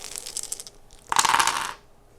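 A rattling clatter of small hard objects tumbling and settling, a sharp burst of video game dice rolling after quieter clicking.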